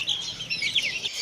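Desi hens with their chicks, small clucks and chirps in quick succession, fairly faint and close, with no talking.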